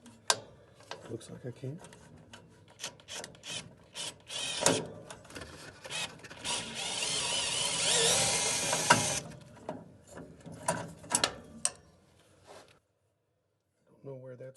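A bit driver unscrews a screw during a heating repair with close, rapid ratcheting clicks, one long whirring run in the middle, then scattered clicks and a pause of near silence. A person speaks briefly.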